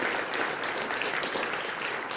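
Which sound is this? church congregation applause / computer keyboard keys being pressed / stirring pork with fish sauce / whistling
church congregation applause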